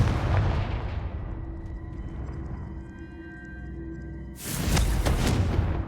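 Confringo explosive spell going off in the Hogwarts Legacy video game: a loud, dense blast at the start that fades out, then a second strong burst near the end, with a faint tonal hum beneath.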